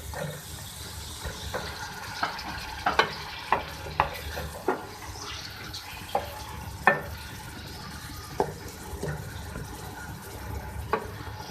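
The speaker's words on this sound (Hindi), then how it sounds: "अब मैं इसमें कलेजी डाल रही हूँ। अब इसमें जाएगा अदरक लहसुन का पेस्ट," Chicken liver sizzles steadily in a pan while a utensil scrapes and clinks against the metal at irregular intervals.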